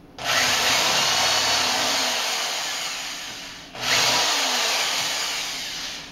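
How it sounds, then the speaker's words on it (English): A drill fitted with a larger bit countersinks a screw hole in wood for a keezer build, two loud, close bursts of grinding whir, each spinning up sharply and then slowly fading, with no talking. "I'm gonna go ahead and countersink this just by using this bigger bit."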